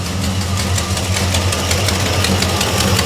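A 1969 Chevelle SS V8 with a non-stock engine idles close up, loud and steady for three seconds. Its rumble is dense and lumpy with a faint knocking texture, and no one speaks over it.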